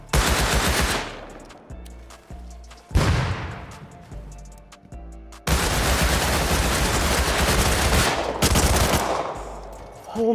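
An MP5 submachine gun fires in the Rust video game in repeated loud, rapid bursts, separated by short pauses, with sharp crackling shots close up.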